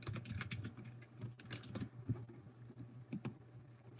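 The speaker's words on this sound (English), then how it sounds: "I keep typing in what I say." Rapid, uneven clatter of keys on a computer keyboard, close and fairly quiet, with bursts of quick strokes and brief pauses over a low steady hum.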